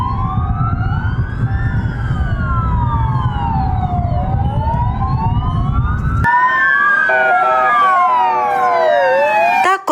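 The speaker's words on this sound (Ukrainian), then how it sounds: "карети швидкої допомоги проїхалися вулицями міста в пам'ять про загиблих колег" Ambulances driving through city streets in a memorial procession for fallen medics, several loud overlapping wailing sirens sweeping up and down, joined near the end by a closer siren with rapid yelping bursts.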